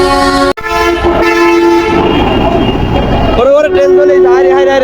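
A train rumbles past a busy road crossing with a long, loud tonal horn blast that breaks off and returns, close by, while a voice talks over the din.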